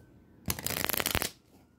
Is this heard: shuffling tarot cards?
yes